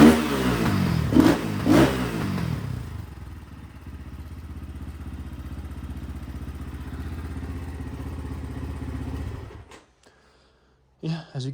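An X Pro Templar X 250cc motorcycle engine revs hard twice in quick bursts, then settles into a steady idle for several seconds before cutting off, with a brief clatter at the end.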